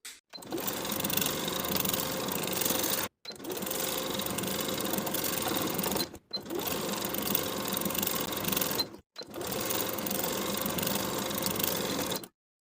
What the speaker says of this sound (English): Then sew the pants to the bottom of the main waistband with a 1/2 inch seam allowance straight across